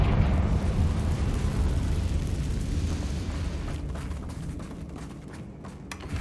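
A fiery Confringo spell blast in the Hogwarts Legacy video game, a loud rumbling explosion that rolls on and slowly fades over several seconds, with no talking.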